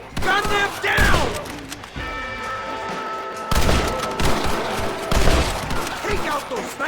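Heavy gunfire rattles through a Red Dead Redemption shootout, loud and close, with dense overlapping shots, rapid bursts and booming reports, while voices shout over the battle.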